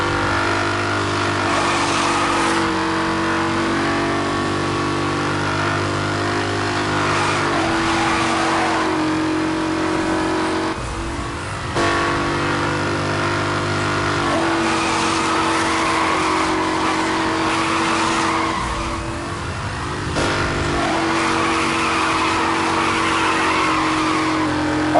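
Need for Speed Hot Pursuit race car engine roars continuously, close and loud, while its tires squeal and skid through repeated corners, the pitch rising and falling with brief drops around each slide.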